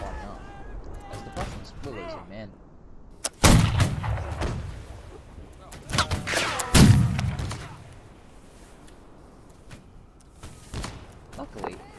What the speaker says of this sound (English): They came to it and started firing at one another.